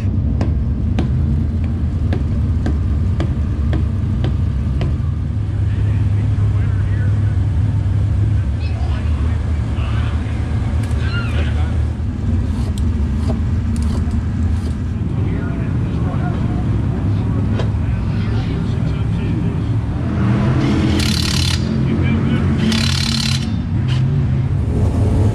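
A race car engine at Deep South Speedway runs hard and loud throughout with a continuous droning roar; in the later stretch a few sharp bursts of noise rise above it.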